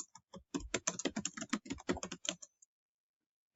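Rapid clattering keystrokes on a computer keyboard, close and fairly even, in a dense two-second burst that stops abruptly into silence.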